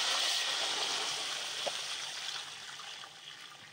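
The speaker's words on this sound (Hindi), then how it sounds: "तो अब हम इसमें गुड़ वाला पानी ऐड कर देंगे।" Jaggery water poured into a pot of fried rice ingredients, a steady faint rushing and trickling pour that gradually tapers off.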